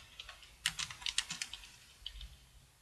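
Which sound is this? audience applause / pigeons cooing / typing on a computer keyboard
typing on a computer keyboard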